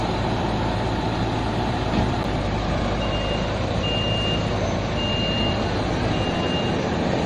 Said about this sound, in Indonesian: Ya berisik di sini karena suara alat-alat berat itu lagi naikin material ke atas.